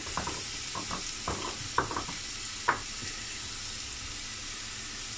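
Ingredients being sautéed in a pan give a quiet, close sizzle with a few soft stirring scrapes and taps in the first few seconds, then settle into a low steady hiss.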